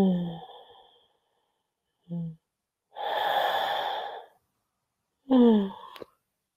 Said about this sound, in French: moi je continue de bailler, je baille toute la soirée